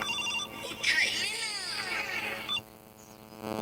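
A telephone rings with a bright trilling electronic tone in a home, one long burst over a continuous background drone, with voices around it.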